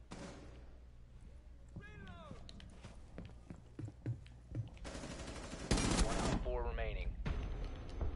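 Video game gunfire cracks in scattered sharp shots, then bursts into a loud dense volley near the end, with voices talking amid the shooting.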